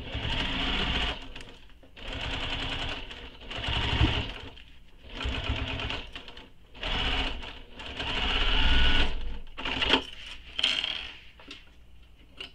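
A sewing machine stitches a backpack seam in several separate bursts of steady whirring, each a second or two long, broken by short pauses, close and fairly loud with no talking.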